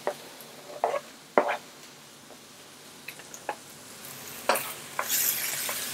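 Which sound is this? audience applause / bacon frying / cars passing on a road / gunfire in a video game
bacon frying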